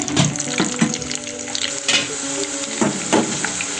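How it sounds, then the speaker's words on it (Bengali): Cubed onion frying in plenty of oil for noodles, a close, moderate sizzle broken by several scraping stirs and clinks of a spoon against the pan. "দিয়ে দিলাম আমি এর ভিতরে কেটে রাখা কিউব করে পেঁয়াজ,"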